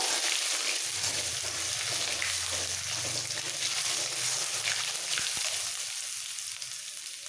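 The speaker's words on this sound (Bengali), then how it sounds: "দেব সামান্য একটু গোটা জিরে আর দেবো এক পিঞ্চ মতো রসুন বাটা রসুনটা দেওয়ার সাথে সাথে তেলের মধ্যে মিক্স করে ফেলবো" Whole cumin seeds and a pinch of garlic paste frying in hot oil for a mutton curry, a steady close sizzle with soft stirring that fades slightly toward the end.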